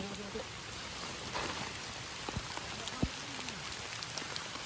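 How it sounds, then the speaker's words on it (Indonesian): Rain falling in a forest during a camping trip, a steady wash of patter on the tent and leaves with a few louder drips, while people talk over it. "Weh, hujan."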